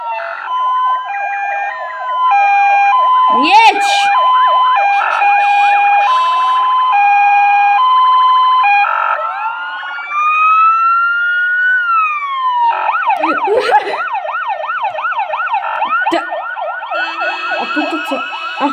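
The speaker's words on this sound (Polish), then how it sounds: "włączam syrenki i dołączam się" Several overlapping electronic sirens from a Ford Transit roadside-assistance truck in Roblox wail and yelp continuously, loud and close, shifting between steady tones and rapid up-down sweeps with no talking.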